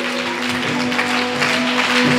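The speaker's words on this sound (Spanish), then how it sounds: "Alguien tiene que aplaudir a Dios." A church congregation claps loudly and continuously, a broad wash of applause over a sustained musical tone in the background.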